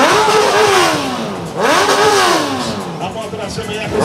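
A Honda 650 motorcycle engine revs hard in rising and falling sweeps, loud and close, with a brief dip between two strong accelerations, during a stunt riding show.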